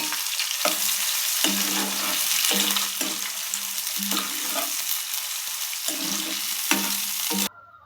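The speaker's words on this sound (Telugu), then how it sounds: "ఆనియన్ పచ్చిమిర్చి ఇదిగో ఇలా వేపుకోవాలండి." Onions and green chilies sizzle and crackle loudly in hot oil in a home kitchen pan, a steady dense frying hiss broken by repeated stirring scrapes, with no talking, cutting off abruptly at the end.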